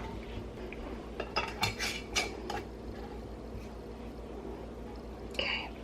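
Metal lids being screwed onto glass canning jars of chicken stock, a scattering of light clinks and scrapes of metal on glass against a quiet kitchen background.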